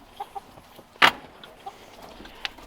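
A few soft, scattered clucks from chickens with one sharper squawk, fairly close in a quiet setting.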